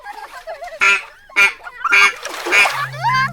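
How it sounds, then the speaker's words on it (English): A cartoon duck, Chara, honks several times as she swims past a noisy water fight, the calls loud and close with splashy bursts between them. "they do not notice Chara the duck passing by"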